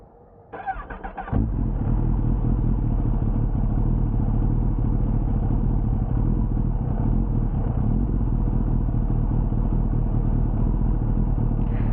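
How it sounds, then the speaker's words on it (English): A 2021 Kawasaki ZX-10R sport motorcycle engine starts with a brief crank, then settles into a loud, steady idle with slightly fluctuating RPM and a rough, throaty exhaust rumble close by. "let's see if you can hear the bike's exhaust sound"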